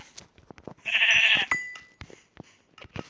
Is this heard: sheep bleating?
yes